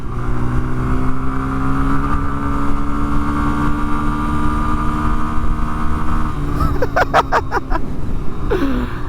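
A Kawasaki-engined lawnmower runs at a steady loud drone while mowing on Long Island, New York, with the engine pitch wavering slightly and a few rattling clicks near the end.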